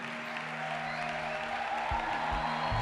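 A church congregation applauds in a steady, dense wash of clapping, moderately loud and filling the room, with a few low thumps near the end.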